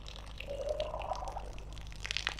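Coolant water gushing and trickling out of a heater hose on a classic Mini engine, a faint, continuous pouring and splashing sound close by, with a few light drips toward the end.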